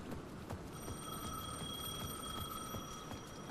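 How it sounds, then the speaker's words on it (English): A payphone at the edge of a plaza rings in the video game Alan Wake II, a steady electronic ring that holds throughout over a low ambient rumble, with no talking. "The payphone at the edge of the plaza was ringing again."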